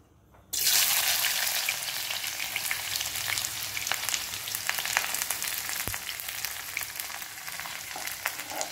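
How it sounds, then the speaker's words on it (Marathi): Sliced onion drops into hot oil and sizzles loudly and continuously, a dense steady frying hiss that starts abruptly and holds to the end, with no voices. "हा कांदा आपल्याला तळून घ्यायचा आहे तेलामध्ये।"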